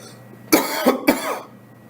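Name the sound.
cough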